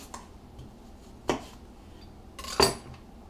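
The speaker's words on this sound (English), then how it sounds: "So now I'm finishing up cutting up the last of the apples here." A knife cuts apples on a board, making two distinct sharp clacks against a quiet background.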